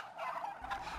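Farm turkeys gobble in a brief, dense burst of overlapping calls, close and fairly loud, with no voices.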